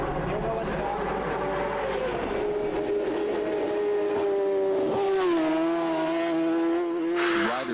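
Racing motorcycles at the Isle of Man TT road race, a sustained high-pitched engine whine that rises and falls as bikes pass close by, ending in a sharp bright burst of noise. Talk is heard underneath.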